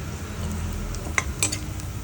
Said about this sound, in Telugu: ఇప్పుడు ఉల్లిగడ్డ కొద్దిగా బంగారం కలర్లోకి వచ్చింది చాలు ఇంతకంటే ఎక్కువ ఫ్రై చేయకూడదండి